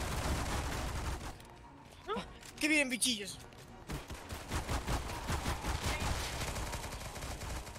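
Rapid bursts of gunfire in the Roblox game Zombie Stories crackle under an excited voice shouting, with a quieter pause before the shots resume in a steady stream.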